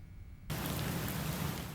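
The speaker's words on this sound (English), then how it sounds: "Only the pouring rain can be heard throughout the empty halls of CSUN." Pouring rain suddenly fades in after a brief quiet moment, a dense, steady hiss of heavy downpour continuing loud and unbroken through the empty campus halls.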